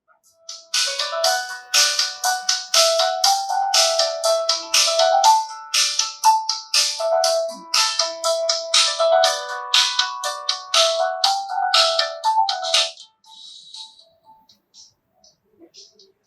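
A cheerful "happy piano" notification tone on a Poco C75 phone plays as a bright run of quick piano-like notes for about twelve seconds, then stops, followed by near silence.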